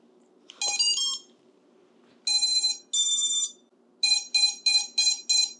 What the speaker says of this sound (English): my beeper's going off